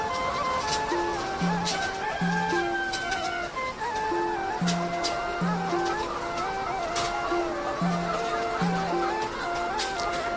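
Laying hens in a caged poultry shed cluck steadily and densely throughout, with a regular repeating two-note tonal pattern running over the flock noise.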